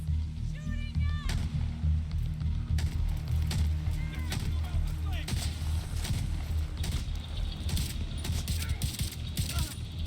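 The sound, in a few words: gunfire in the video game Tom Clancy's The Division 2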